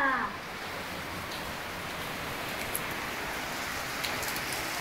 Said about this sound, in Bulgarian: Супер дъжд! Много ми харесва.